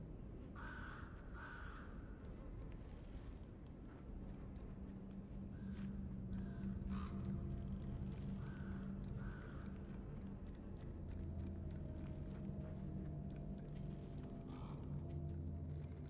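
Crows cawing in the eerie outdoor setting of the Little Nightmares III video game, a series of harsh caws at moderate distance over a low rumbling ambient drone and faint footsteps, with no talk.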